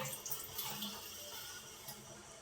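Okra is washed in water in a home kitchen, giving a faint, brief splashing and running-water wash with no talk.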